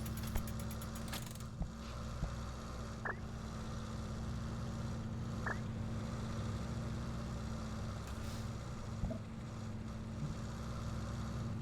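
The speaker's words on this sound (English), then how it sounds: "Oh, just love the engine sounds." Steady, droning vehicle engine hum from cars in the Parkitect theme park game, a continuous low rumble with a few faint clicks and blips over it and no talking.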